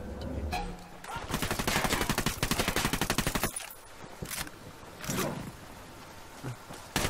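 Submachine gun fire from a narco enemy in Ghost Recon Wildlands, long rapid automatic bursts rattling fast and loud, then breaking into scattered single shots and quieter game noise.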